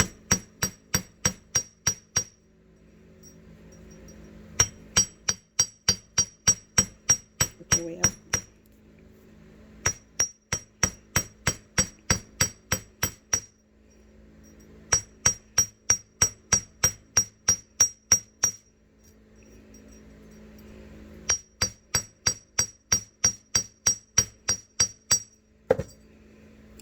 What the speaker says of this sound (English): You can use the tip of the round side of your hammer, but this time we're going to use the flat side.